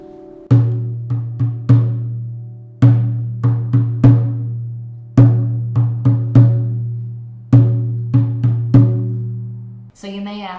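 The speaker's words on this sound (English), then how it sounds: "And a frame drum sounds like this." A frame drum is struck in repeated groups of quick, resonant hits with a deep, booming body. Each stroke decays before the next, and four clusters of beats sound alone, close and loud.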